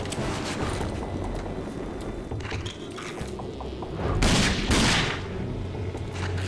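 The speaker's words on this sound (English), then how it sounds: "Are you still alive after I shot you in the head twice" Gunfire in the shooter Rage, bursts of sharp shots in quick irregular volleys, louder near the end, over a busy game background.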